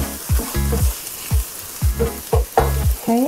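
Onions frying in a pan over medium-high heat on a home stove, a soft sizzle punctuated by repeated scraping strokes of stirring in an uneven rhythm, close and with no voices.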